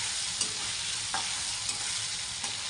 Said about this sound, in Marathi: आपले पनीर आहे ना हलकंसं असं फ्राय करून घ्यायचं.